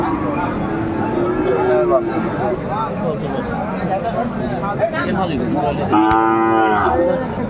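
Sahiwal bull calves moo loudly at a cattle farm near Dhaka, several drawn-out calls rising and falling one after another, with a long, strong bellow near the end and people talking in the background.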